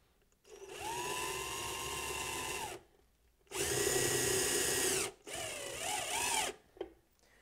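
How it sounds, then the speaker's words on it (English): A power drill drives screws into a screen printing platen in three long whirring runs, the motor steady then dipping in pitch as each screw bites, loud and close. "I'm going to drill them in, and then we'll go ahead and tighten after the fact."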